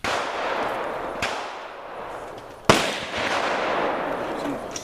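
Shotguns firing at an outdoor clay-target shooting range in a state forest: two sharp gunshots, a softer one and then a louder, closer crack, each trailing off into a noisy outdoor wash.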